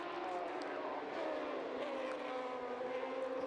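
F1000 race cars at Brands Hatch Indy circuit drone steadily past, a continuous high engine whine shifting in pitch as they head away up to the hairpin, moderately distant with no talk.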